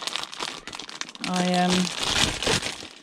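Crinkling plastic packaging of a new packet of work gloves being opened in a cold shed, close and loud, with a person talking over parts of it.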